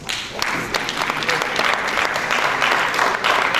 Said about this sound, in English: A hand of applause to yourselves.